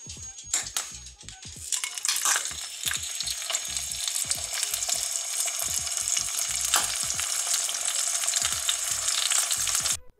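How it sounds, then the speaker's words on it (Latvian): A salted steak sizzles and fries in a pan, a steady crackling hiss with scattered sharp pops and spatters, close and continuous throughout, with no talk. "Tad nu mazliet sāls un jāliek uz pannas."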